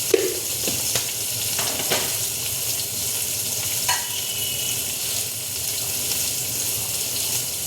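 Potato and cauliflower frying in a pan with dried chili and salt, a steady soft sizzle throughout with a few light clinks and stirring scrapes, close and unbroken.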